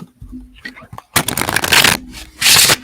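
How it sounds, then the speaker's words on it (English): Tarot cards shuffled by hand in a few loud, dense riffling bursts separated by short pauses, close up, following a brief stretch of quiet movement. "I'm just going to use the tarot."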